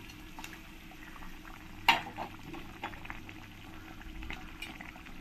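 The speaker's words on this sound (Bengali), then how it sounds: "ঝোলটাও ভালো করে ফুটে গেছে।" Shol fish curry gravy bubbling at a steady boil in a pan on the stove, a continuous close simmering hiss with one sharp clink near the start and no talking.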